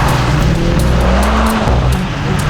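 A Mercedes-AMG C63 S E-Performance accelerates hard, its engine roaring loud and close with a rising note and a brief tire squeal, with no talk over it.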